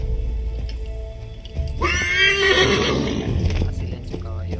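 A horse in the Assassin's Creed III video game lets out a loud, close whinny lasting about a second, with hoofbeats and game ambience continuing around it and speech nearby.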